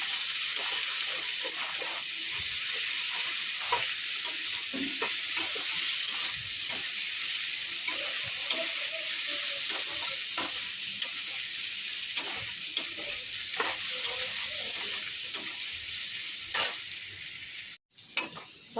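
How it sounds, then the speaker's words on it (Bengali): Potatoes seasoned with salt and a little turmeric fry in a pan with a constant sizzle, broken by occasional scrapes and stirring clicks and a brief dropout near the end. "আলুটাকে ভেজে নিই নুন হলুদ দিয়ে"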